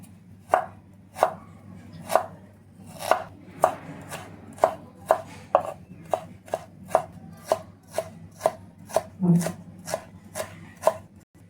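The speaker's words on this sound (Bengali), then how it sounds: "তো এখানে 1 টুকরো আদা নিয়েছি, তো এটা কুচি করে নেব।" Garlic and ginger chopped with a knife on a board, about twenty crisp, evenly spaced thwacks at a steady rhythm, close and distinct against a quiet low hum, with no speech.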